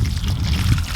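Water pours steadily from a watering can onto a newly planted patty pan squash in garden soil before it is covered with a dome, a close, continuous splashing trickle with no talk.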